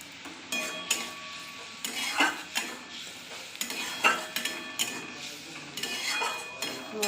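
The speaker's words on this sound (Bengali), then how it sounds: "মশলাটা আমি ভালো করে কষিয়ে নেব।" Turmeric and chili powder spice mix frying in a pan crackles steadily while a utensil scrapes and stirs it in repeated strokes, close by and moderately loud, without speech.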